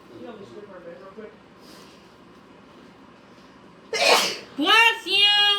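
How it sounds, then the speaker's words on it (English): A mother sneezes loudly once, a sharp close burst that breaks into a short nasal snort and a child's quick reaction, following quiet low talk. "You just heard your mom sneezing."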